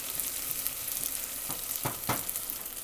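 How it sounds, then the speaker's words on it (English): Bulgur wheat toasting in a hot pan gives a steady close sizzle and crackle, with a few brief stirring scrapes near the end and no voices. "Right now we're still toasting the burgle."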